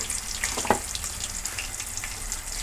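Chillies and turmeric frying in hot oil for a fish curry, a steady close sizzle with faint crackles and one sharper pop, no voices.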